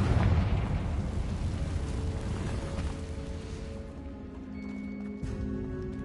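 Confringo fire-blast spell exploding in Hogwarts Legacy, a loud low rumbling boom that fills the start and slowly decays into a fading crackling tail, with no talk over it.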